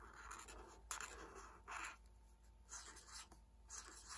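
Marker or chalk scratching on a board while a cloud weather symbol is drawn: several short, faint rubbing strokes in quick succession, close and quiet, with no talk.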